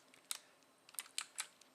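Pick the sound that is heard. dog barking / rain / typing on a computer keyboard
typing on a computer keyboard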